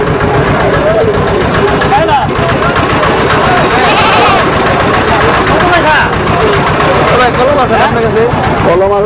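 Goats bleat repeatedly amid the bustle of a rural livestock market, several calls rising over loud, constant crowd chatter and an engine hum close by.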